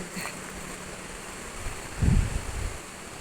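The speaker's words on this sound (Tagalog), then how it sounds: "kundi lagaslas ho ng tubig ng ilog na galing kabundukan" A mountain river flows in a steady, soft broadband rush, with a brief louder swell of water near the middle.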